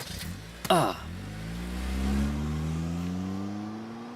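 A car pulls away, its engine rising in a smooth accelerating drone after a brief door thud, then fading slightly; a voice is heard briefly near the start.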